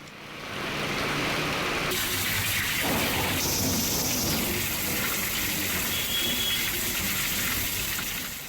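Steady rain pours down in Jaipur, a dense, even hiss of falling water that stays loud and continuous throughout with no voices.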